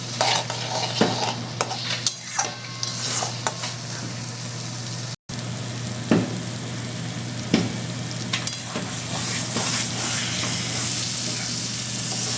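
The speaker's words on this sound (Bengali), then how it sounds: "আমি 2-3 মিনিট কষে নেব।" Spices frying for mutton curry, stirred steadily in a pan: loud, continuous crackling sizzle with frequent scraping stirs, over a low steady hum, with a split-second drop to silence partway through.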